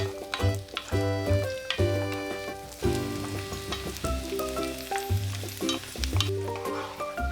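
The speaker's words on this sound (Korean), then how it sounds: "식용유 5스푼, 마늘 넣고 중불로 볶아주세요." Garlic fries in five spoons of cooking oil over medium heat and is stirred, giving a constant sizzle under loud background music.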